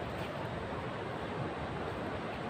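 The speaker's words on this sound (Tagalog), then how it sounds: "binabagsakan ng malaking alon" Big ocean waves crash on a beach, a dense, steady roar of surf heard close, with wind-like rushing throughout and no distinct break between waves.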